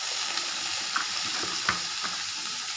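Broad beans with green chilli and curry leaves sautéing in a pan, a steady faint sizzle with a few soft scraping stirs, no voices.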